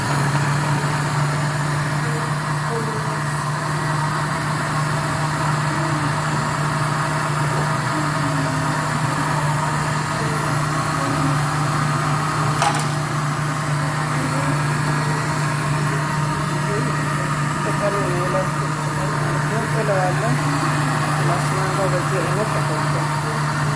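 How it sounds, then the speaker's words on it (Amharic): A blender grinds mango with water, giving a loud, steady motor whir with a constant hum that runs unbroken throughout, and no talking over it. "ማንጋውን በዚህ ውሃ ፈጫለሁ ማለት ነው።"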